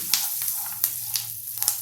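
Curry leaves sizzle in hot oil for an Udupi Brahmin-style tempering, a steady close frying hiss broken by several sharp crackling pops, with no talking.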